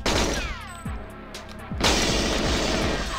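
Rapid bursts of video game gunfire from Goldeneye 007, Perfect Dark or Doom 64 crack out, a brief lull, then a heavier volley of repeated shots with booming impacts, loud and close.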